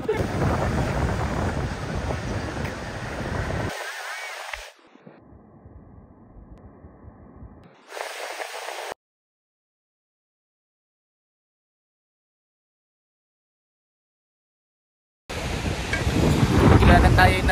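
Strong wind buffets the microphone at a beach resort in Baler, Aurora: loud, gusty low rumbling in bursts broken by stretches of silence, with voices faintly mixed in.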